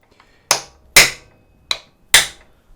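A heavy hammer strikes the side of a classic Yamaha DT100 motorcycle engine casing four times, sharp loud metallic whacks in an uneven rhythm with quiet gaps between them.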